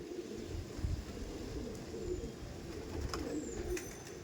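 Andhra pigeons coo softly in a continuous low rumble, several birds calling together at a moderate distance, faint and steady with occasional light clicks.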